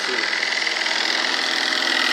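An air compressor running on generator power: a steady, even mechanical hum with a buzzing, vibrating texture, continuous and close throughout.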